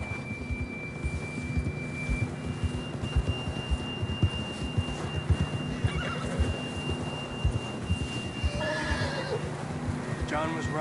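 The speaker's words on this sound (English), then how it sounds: "John was riding that horse when we left Blackwater" A horse in a video game neighs loudly near the end, with clip-clopping hooves and steady game ambience running underneath throughout.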